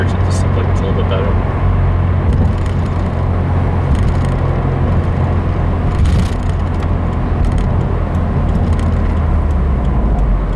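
A 2015 Subaru WRX driving with steady, loud engine drone and road roar from inside the cabin, the low engine tone holding throughout with only slight shifts as it pulls through the gears.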